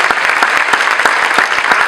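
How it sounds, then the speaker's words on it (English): Thick, loud applause from an audience at a community meeting about schools, a continuous wash of many hands clapping at once with a few sharper claps poking through. "Give yourself a round of applause."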